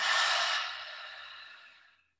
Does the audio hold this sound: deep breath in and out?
yes